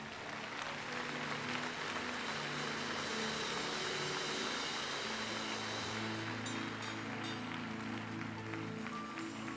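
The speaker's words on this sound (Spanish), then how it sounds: "Denle un aplauso al Señor" A church congregation claps together in a long, dense, sustained round of applause, with low instrumental tones ringing underneath throughout.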